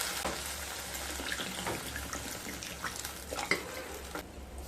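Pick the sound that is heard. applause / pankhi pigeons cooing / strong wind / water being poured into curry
water being poured into curry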